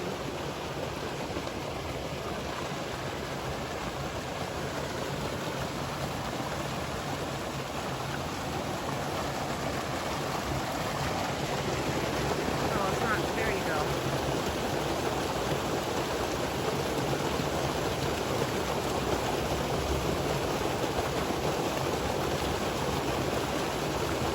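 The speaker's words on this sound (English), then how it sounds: "That's a little waterfall." Small forest waterfall pouring steadily, a dense continuous rush of falling water close by, swelling slightly louder midway as if approached, with no voices over it.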